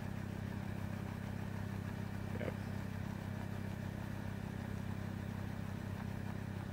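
A Sony WM-FX511 Walkman fast-forwards a cassette in AMS track-search mode, giving a faint, steady motor whir with a low hum that holds throughout.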